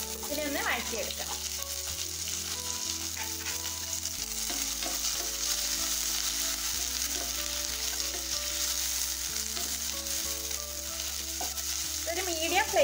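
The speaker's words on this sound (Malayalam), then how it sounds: "ഇതിന്റെ കൂടെ തന്നെ നമുക്ക് പച്ചമുളകും കുറച്ച് കറിവേപ്പിലയും ചേർത്ത് ഇതിനെ ഒന്ന് വഴറ്റിയെടുക്കാം" Onion, green chilli and curry leaves sauté in hot oil over a medium flame, a steady close sizzle with occasional stirring scrapes throughout.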